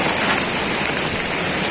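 Heavy rain pours down at a riverside campsite during a storm, a dense, loud and steady hiss of drops on surfaces with no voices.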